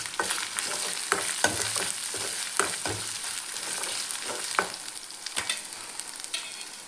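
Onions fry in a pan for a mutton fry while being stirred, giving a steady, close sizzle broken by frequent sharp scrapes and knocks of a spoon against the pan.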